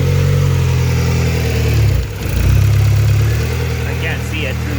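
A rebuilt SOHC turbo Honda Civic engine runs cold after its first start, idling with a loud, steady low rumble that dips briefly midway before settling again; a voice speaks over it.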